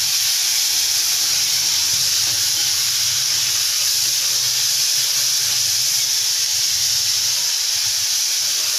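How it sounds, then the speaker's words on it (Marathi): Bell peppers (capsicum) sautéing with salt in a pan for a fasting meal, giving a steady, continuous hiss of sizzling steam with a faint low rumble underneath. "मीठ घालून छान 1 मिनिटभरासाठी छान परतून घ्यायचे"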